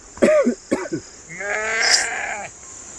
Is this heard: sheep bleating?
yes